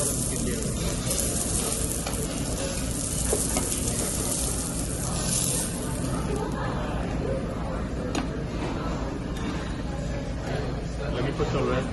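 A5 Olive Wagyu steak sears to medium rare at a steakhouse grill, giving a steady, dense, close sizzle that hisses without pause for the whole stretch, with faint voices in the background.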